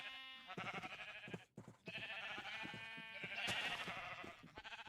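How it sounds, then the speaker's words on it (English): Sheep in Minecraft bleating repeatedly in quick wavering cries, fairly close and continuous, with several animals overlapping and no talk. "God, those sheep are annoying."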